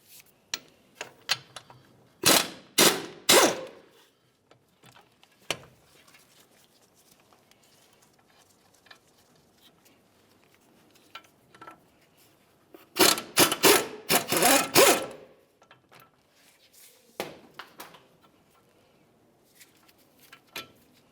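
Caliper bolts loosened and removed on a 2005-2010 Dodge Dakota, heard as bursts of rapid ratcheting clicks in two main runs with scattered taps and metallic handling between, close up, no talk.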